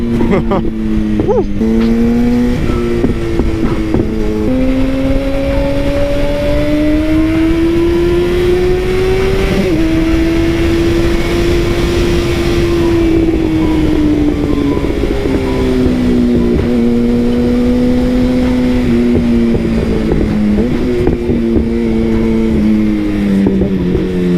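An FZ1 motorcycle with new gearing accelerating on an early-morning city ride in Midtown, its loud steady engine drone rising and dipping in pitch amid heavy wind rush, with a rider talking over it.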